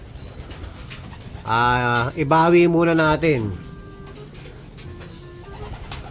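A large racing pigeon, thin after returning home, coos loudly and close in a couple of throaty bursts, with someone talking quietly in Filipino before and after.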